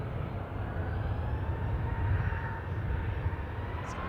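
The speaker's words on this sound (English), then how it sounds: "See the Super Jumbo take off." Engines of an Airbus A380 jet at Manchester Airport give a steady, broad roar with a heavy low rumble, holding at an even level throughout and sounding some distance off, with no talking.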